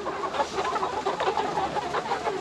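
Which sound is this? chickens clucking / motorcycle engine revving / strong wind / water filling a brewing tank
chickens clucking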